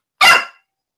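A single short, sharp bark from a dog called Space Dog, loud and close, then silence.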